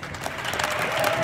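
Dense, steady applause from a crowd at a concert, continuous and fairly loud throughout the short stretch.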